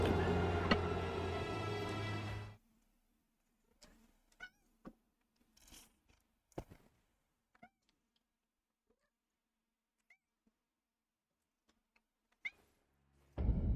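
A cat meows faintly in short, scattered calls through a quiet stretch, bracketed by louder sound at the start and end.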